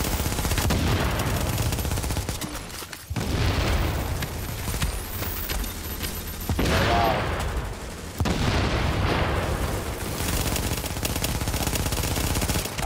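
Loud, relentless automatic gunfire with explosive rounds in Tom Clancy's The Division, heavy bursts and booming impacts running almost continuously for over twelve seconds with only brief gaps.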